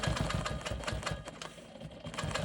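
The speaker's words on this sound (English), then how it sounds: "So I'm going to be quilting the outside of this block." A sewing machine quilting in the ditch around the outside of a rolling stone quilt block, running in steady rapid stitching bursts with a mechanical chatter, close and continuous throughout.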